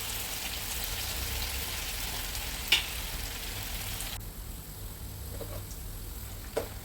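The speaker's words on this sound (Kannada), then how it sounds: "ಈಗ ನಾನು ಒಂದೊಂದಾಗಿ ಫ್ರೈ ಮಾಡ್ತಾ ಇದ್ದೇನೆ." Pieces of food fry in hot oil in a home kitchen with a steady, close sizzle. The sound drops to a softer hiss partway through, and a few faint clinks are heard.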